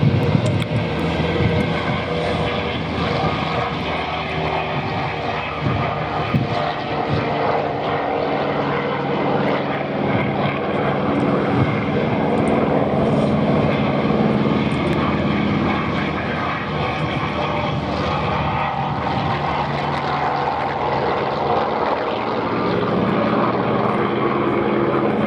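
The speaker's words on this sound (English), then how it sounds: "One Bearcat, two Corsairs, a lot of Mustangs" Loud, continuous roar of vintage propeller aircraft in a mass flypast at Duxford's Flying Legends air show, a Bearcat, two Corsairs and many Mustangs, with piston engines droning steadily throughout.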